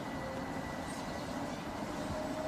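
Southeastern Class 377 electric multiple units depart Swanley station on the South Eastern Main Line, giving off a faint, steady, distant rumble of rolling stock with no voices over it.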